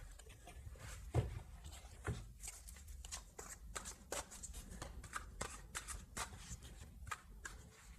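Tarot cards being shuffled for a reading, a steady run of crisp riffling and slapping card sounds repeating close up, with no talking.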